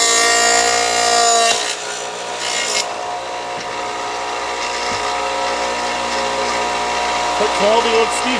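A table saw fitted with a dado stack hums steadily after cutting plywood, a loud constant tonal drone with light rubbing noises, while a person talks over it.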